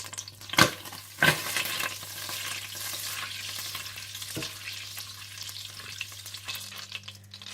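Onions frying in hot oil and butter, a steady close sizzle with a couple of sharp clattering stirs near the start and a softer knock midway.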